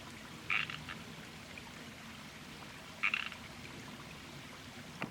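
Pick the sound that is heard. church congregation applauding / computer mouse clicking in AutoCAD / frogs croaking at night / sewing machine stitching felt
frogs croaking at night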